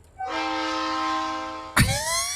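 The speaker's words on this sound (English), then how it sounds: "It's got a train horn." A steady, chord-like train horn from the Trainz 2022 railway simulator game blares for about a second and a half, then breaks into a short noisy burst with a rising whistle.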